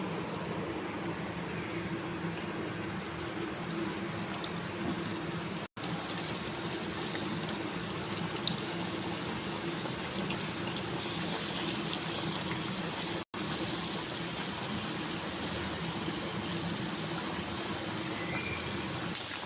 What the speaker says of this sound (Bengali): আর বাদ বাকিগুলো আমি একইভাবেই ভেজে নেব